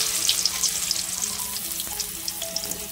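Stuffed bitter gourds fry in mustard oil in a pan, a close, continuous crackling sizzle with small popping bubbles and faint scraping.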